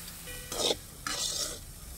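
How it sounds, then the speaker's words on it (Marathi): A spoon stirs a fig (umbar) vegetable dish in a pan with two brief scraping, sizzling strokes, close and fairly quiet. "आता मस्त असं हलवून घेऊया आणि 1 मिनिटभर झाकून ठेवूया"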